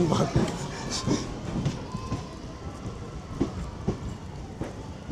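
MEMU special train on the Coimbatore–Dindigul route running along the rails, a steady rumble with intermittent clacking thumps, with voices of people talking over it.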